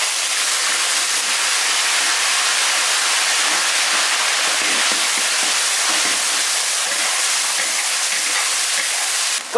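Food hits very hot oil in a wok for a quick stir-fry of a Zigong dish, giving a loud continuous roaring sizzle with a dense hiss that stays level and close throughout.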